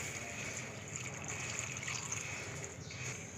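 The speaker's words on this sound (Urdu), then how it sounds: "اب اس میں پانی ڈال رہے ہیں" Water streams steadily into a cooking pot holding chana dal and ridge gourd peels, a soft continuous pouring rush heard close and fairly quiet, with no talking over it.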